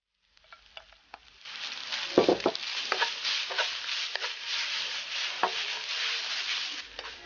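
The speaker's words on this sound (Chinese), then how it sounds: "锅里面热油，倒入切好的配料， 炒出香味后放入萝卜丝" Shredded radish goes into a wok of hot oil with chopped aromatics: a few clattering knocks, then a close, steady stir-fry sizzle that holds to the end.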